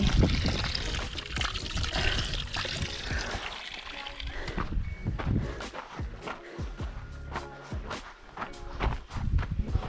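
Hands are washed with water on a mountain trail during a high-altitude camping hike, with close splashing, pouring and trickling mixed with shuffling movement.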